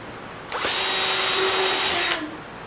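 Power drill spinning up in one burst of about a second and a half, loud and close, with a whining motor pitch that drops as it winds down, otherwise quiet.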